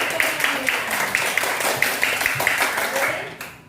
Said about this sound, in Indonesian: tepuk tangan untuk anak ibu